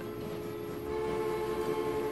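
Steady rumbling train noise from the 1892-era railway game Transport Fever, a continuous low drone with a faint sustained whistle-like tone running through, constant and fairly close, with no speech.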